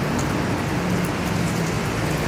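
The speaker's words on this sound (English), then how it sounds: "It has turned into a rainy day here in Singapore" Rain falls steadily on a rainy day in Singapore, a dense, even patter on surfaces that stays close and constant throughout.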